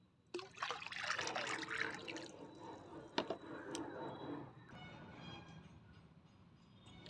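Liquid organic fertilizer trickles and drips onto a potted plant, a faint watery splashing that swells early, then thins to soft scattered drips.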